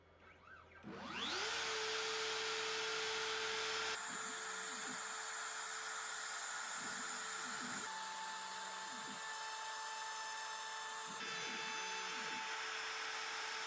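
A CNC router spins up and mills an old MDF board, its spindle whine holding steady and loud over dense, continuous cutting noise, with brief dips and swells as the bit moves through the material.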